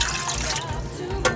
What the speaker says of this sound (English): So I'm gonna put 1 cup of water in here.